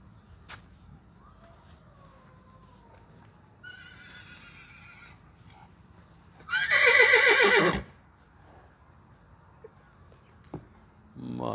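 A horse gives a loud, bright whinny lasting about a second, preceded by faint quieter calls and scattered hoof clops at a livestock setting, with soft ambient noise between.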